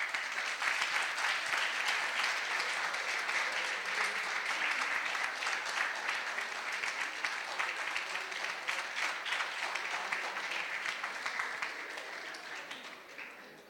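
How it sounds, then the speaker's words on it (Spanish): An audience at a historical lecture on Benito Juárez and the Reform era gives a dense, sustained round of applause for a distinguished historian, steady and loud for about twelve seconds before tapering off at the end. "maestro e historiador Israel Cavazos Garza, a quien le brindamos un fuerte aplauso."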